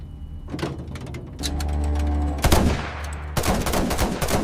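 Heavy tank gunfire bursts out, the main gun giving a deep sustained rumble and then machine guns firing rapid loud reports, close and harsh.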